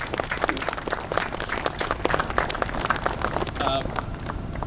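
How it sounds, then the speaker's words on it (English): Lively applause for Governor Beshear from an audience at a Census 2010 bus tour event, with quick, dense clapping that stays loud throughout and some voices mixed in. "So let's give Governor Beshear a great round of applause for what he does for us."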